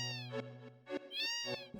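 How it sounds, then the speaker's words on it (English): A cartoonish cat meows several times in a retro snowboarding video game, bright clear calls rising and falling over steady game music, close and loud with no talking. "There's a cat."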